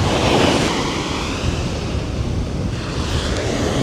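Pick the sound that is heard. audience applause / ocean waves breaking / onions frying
ocean waves breaking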